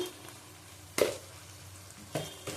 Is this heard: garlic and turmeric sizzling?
yes